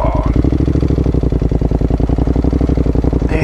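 A Honda NC750X motorcycle engine revs hard and steadily while bogging in sand, a loud, close, pulsing drone lasting throughout.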